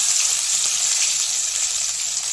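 Crushed garlic cloves hit hot oil already holding chillies, giving a steady, bright, close sizzle that runs unbroken throughout.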